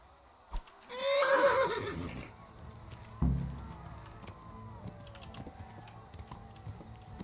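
A horse in the Kingdom Come: Deliverance video game gives one loud whinny near the start, followed by a dull thump and faint clicking and creaking, with no voices.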